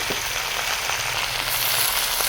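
Malabar spinach, potato and pumpkin fry with onions in a pan, giving a continuous close sizzle with light stirring scrapes and a brighter hiss toward the end.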